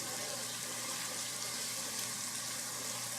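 Garlic fries in a pan while being stirred, a steady broadband sizzle and hiss that stays constant and close throughout, with no talking.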